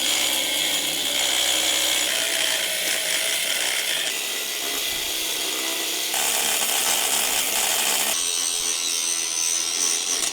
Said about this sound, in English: All right, after some cutting and grinding, we got it fitting.